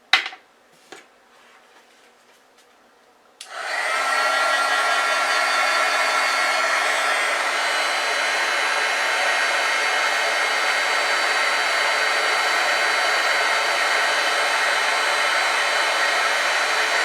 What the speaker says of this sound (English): And I'll hit this with the heat gun once again.